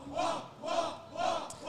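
A wild esports tournament crowd at a Super Smash Bros. Ultimate qualifier match, Pac-Man against Luigi, roaring in three loud swelling waves of chanting and cheering, close and dense with no clear talk over it.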